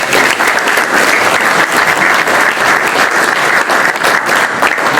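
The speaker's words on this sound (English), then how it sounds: "Please join me in welcoming Barry" A large audience applauds steadily for a speaker at a talk on carbon capture and storage, dense and continuous clapping filling the whole stretch with no voices.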